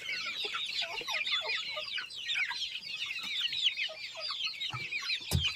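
Hens and chicks, a batch of young village chicks among them, clucking and cheeping in a dense, continuous chatter at close range, with no voices over it.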